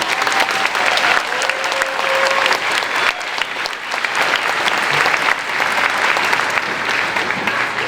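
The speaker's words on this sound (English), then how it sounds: "Let's have a round of applause for Mrs. Edwards." Audience applause fills a fourth grade moving up ceremony, a steady dense clapping that holds loud and even for the whole stretch, with a faint voice briefly heard beneath it.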